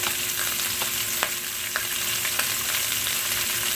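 Food with butter fries in a pan under a steady broad hiss, and a few light clicks from a spoon or spatula come at irregular intervals as it is stirred.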